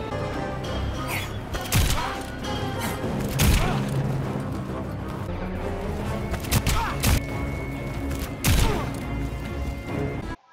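Joker fires delayed gunshots in a fighting video game, several sharp booming shots spaced a second or two apart over game music and effects, with a voice talking throughout.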